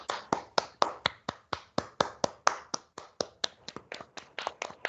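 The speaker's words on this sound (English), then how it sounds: "A huge round of applause for the icebreaker speech" Steady clapping from a small audience at a Toastmasters club meeting after an icebreaker speech: about two dozen sharp, evenly spaced claps over five seconds, close and distinct, with no talking.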